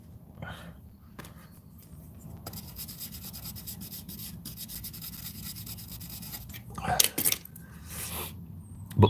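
A fiberglass pen scrubs alkaline corrosion off the circuit board of an Acorn Archimedes A3000 computer under repair. Close, quiet scratching strokes come in uneven bursts, with a couple of sharper scrapes near the end.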